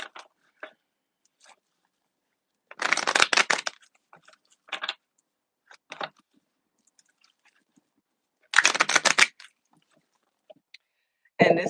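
Tarot cards shuffled by hand in two brisk bursts of riffling, each about a second long, with scattered soft card taps and handling noises between them, close and clear in a quiet room.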